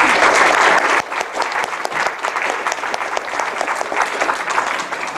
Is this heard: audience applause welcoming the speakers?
yes